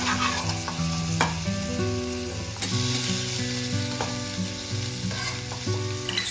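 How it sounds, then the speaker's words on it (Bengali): Boiled potato pieces frying in hot oil for crisp potato patties, a steady close sizzle with occasional stirring clinks, all under a faint tonal hum. "আলুটা তেলে দিয়ে দেব।"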